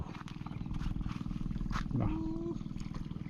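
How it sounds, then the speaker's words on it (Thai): A longtail boat engine drones close by on a fishing trip, a loud steady low throbbing hum with a rough pulsing texture that runs throughout, with a short tonal sweep partway through. "เรือหางยาว"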